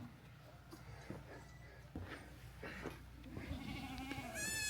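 Goats and sheep, females with young, bleat at a nomad winter camp in Kharnak, Ladakh: scattered bleats near and far, rising at the end, over a faint murmur of background voices.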